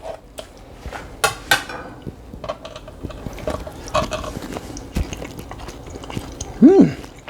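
Biting and chewing a slice of smoked pork sirloin roast cooked on a Traeger, soft close mouth sounds with scattered cutlery and plate clinks, ending in a louder clatter.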